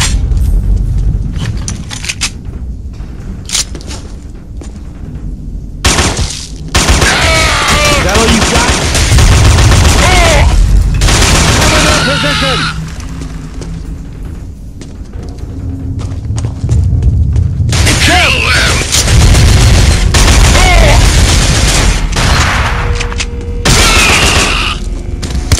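Gunfire and explosions in the PS2 shooter Killzone: dense, loud bursts of shooting and booms running nearly throughout, with shouted soldier voices over the battle.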